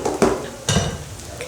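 A ladle scrapes and clinks against a dosa pan while spreading idli podi over the dosa. Two distinct metallic strokes come close together, with a faint hiss of cooking under them.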